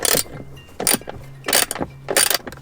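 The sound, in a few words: unscrewing the display bolts on a Tesla Model Y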